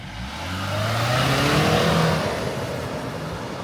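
A turbocharged car accelerating hard, engine note climbing steadily as it revs up and builds to a loud peak before easing slightly, heard close and alone.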